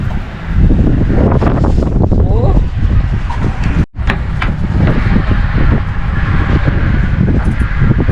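Steady wind buffeting the microphone outdoors while fishing, with a low rumbling roar, broken briefly by a sharp dropout midway, with faint voices and movement underneath.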